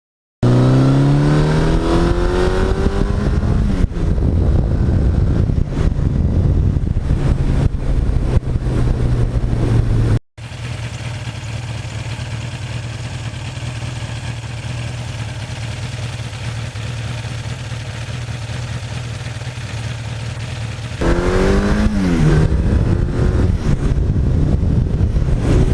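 A 1982 Suzuki GS1100E motorcycle engine running up close: loud steady idle with throttle blips rising and falling at the start and end, and a lower, even idle through the middle.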